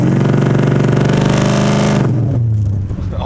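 A 1971 Chevrolet Camaro Pro Street V8 engine revs loud and close, a deep rumbling blip that rises briefly and then cuts off sharply as the throttle drops back to idle.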